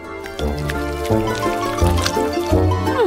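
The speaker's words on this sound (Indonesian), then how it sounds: "Aku akan mengumpulkan coklat ke dalam kaleng." Melted chocolate pours into a can in a series of close, thick liquid glugs and drips, several separate spills with a rising, filling tone near the end.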